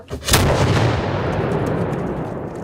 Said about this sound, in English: Muskets and cannons included.